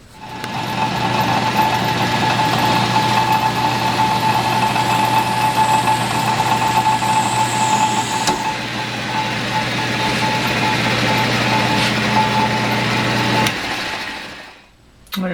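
A lathe bores a hole through 1-inch Delrin stock. Its motor gives a loud, steady whine with a constant hum underneath for most of the span, then winds down and goes quiet near the end.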